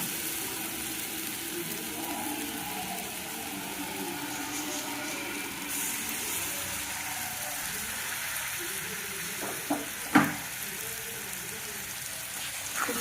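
Masala for egg tadka sizzles in a pan after a little water is added, a steady soft hiss with a couple of brief clinks near the end.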